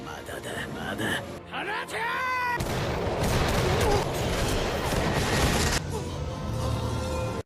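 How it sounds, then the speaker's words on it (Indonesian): Soldiers' rifles fire a sustained volley in a battle scene, dense crackling gunfire running loud and continuous beneath voices and battle noise. "Nobunaga lalu memerintahkan mereka untuk melepaskan tembakan."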